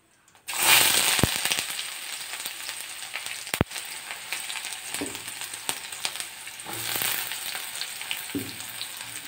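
Chopped onion frying with cumin in a pan gives a steady close sizzle, with occasional sharp pops and stirring scrapes running through it.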